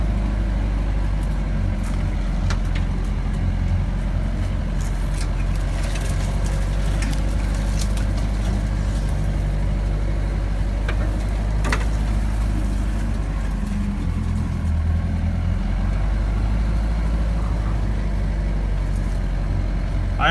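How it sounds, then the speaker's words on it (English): Steady low drone of a Mahindra Roxor LE engine climbing a mountain road, continuous and fairly loud, with occasional rattles and clunks from the vehicle over the rough track, no talking. "I am stepping on the throttle a little bit now"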